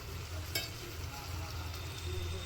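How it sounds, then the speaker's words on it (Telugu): Tomatoes fry in oil until their skins split, a quiet, continuous sizzle and bubble nearby with a faint low hum beneath and one short clink of a utensil early on. "సేమ్ అట్లనే టొమాటో మీద ఉన్న స్కిన్ సపరేట్ అయ్యేంత వరకు ఈ టొమాటోల్ని మనం నూనెలో గోలించుకోవాలి."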